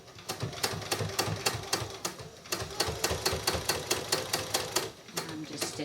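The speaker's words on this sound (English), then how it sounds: "I'm just stitching" A sewing machine stitches a decorative tea towel with a fast, steady run of needle clicks, close and continuous, pausing briefly near the end.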